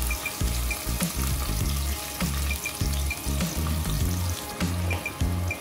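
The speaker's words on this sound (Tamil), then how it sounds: "இப்போ வெங்காயம் நல்லா வதங்கி வரணும்." Chopped onions sauté in a pressure cooker for chicken biryani, giving a steady close sizzle and hiss over a low, rhythmic backing that runs throughout.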